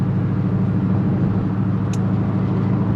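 A supercharged Camaro SS with a big cam idling around 900 rpm, a steady, low rumbling engine drone with a lumpy pulse, close and continuous throughout.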